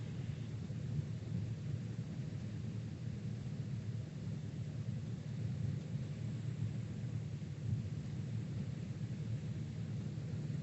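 A light aircraft taxiing down the middle of a road gives a steady, low droning engine rumble with constant loudness throughout, moderately distant and without voices.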